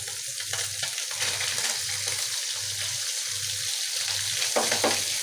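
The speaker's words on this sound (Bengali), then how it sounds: "এই যে এদিকে দিয়ে দিলাম মলাই মাছ ভাজা।" Mola fish fry in hot oil in a pan, a steady close sizzle with a rhythmic low scraping of a spatula repeating about once a second throughout, with no talking.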